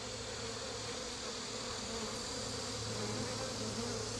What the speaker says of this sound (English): the bees that are fanning